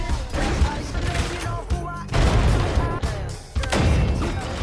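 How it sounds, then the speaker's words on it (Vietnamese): Gunfire in an action film echoes across a building floor: loud, dense bursts of shots and crashing booms come in waves, with brief lulls between volleys and voices mixed faintly underneath. "tiếng súng rền vang khắp tầng lầu"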